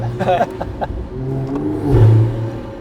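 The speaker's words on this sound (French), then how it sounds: "le bruit de l'admi" A stage 2 Toyota Supra engine drones, then swells into a louder rev near the end, with whooshing intake noise and a few brief sharp knocks early on.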